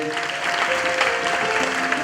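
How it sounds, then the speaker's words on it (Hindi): Clapping from a group of people at a Guru Purnima religious gathering, fairly loud and continuous, with a steady tonal hum running underneath. "हम सब इनको तालियों से बधाई देंगे"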